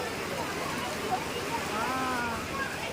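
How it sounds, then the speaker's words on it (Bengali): Heavy rain pouring on a rooftop during a thunderstorm, a steady dense hiss, loud and close, with a faint tonal sound rising briefly partway through. "আরে বাবা কি ভাব বৃষ্টি পড়ছে"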